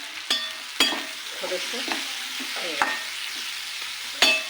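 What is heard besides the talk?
roasting ground spice mix in oil in a kadai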